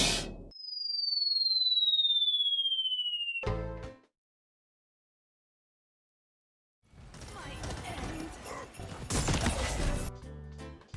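Shots from Evie in the video game Paladins: a bright descending whistling tone lasting a few seconds, a sharp burst, silence, then a dense crackling and crashing stretch of effects toward the end.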